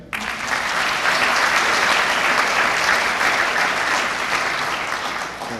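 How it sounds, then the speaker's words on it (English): An audience applauds at the 2016 Vacaville Fire Department awards ceremony, a full, sustained burst of clapping from a large crowd that swells quickly and then holds steady before easing slightly. "Extra loud applause for this one because he's my boss."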